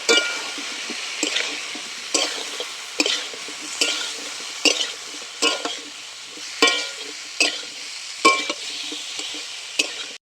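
Jackfruit and potato pieces stir-fried in spiced oil, a spatula scraping through the pan in regular strokes about every second over a steady close sizzle, with no talking.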